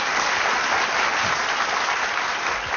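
Steady audience applause following a memory demonstration, dense even clapping at close range throughout the short stretch with no talking.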